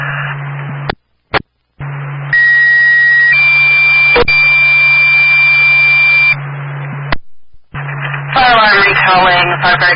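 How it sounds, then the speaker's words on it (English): Fire department dispatch tones over a two-way radio during a flooding emergency in Caledonia County: a hum and static bursts, then loud steady alert tones stepping in pitch for several seconds, followed by more static and a dispatcher starting to speak. "fire alarm recalling Firefighter Greaves and Lieutenant Darby for station coverage 2120"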